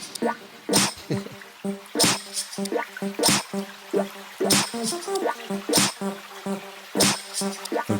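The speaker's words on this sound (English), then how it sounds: "That's actual rain." Real recorded rain in the lo-fi track "Water Level" plays as wet, dripping splashes in a loose repeating rhythm over a soft tonal backing, loud and close.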